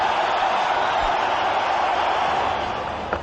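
A cricket stadium crowd applauds Ganguly in Bangalore, a dense, steady roar of clapping and cheering that holds at a constant level and fades slightly at the end.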